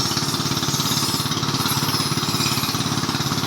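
A boat engine runs steadily, with a fast, even throbbing pulse throughout, loud and close, with no talking over it.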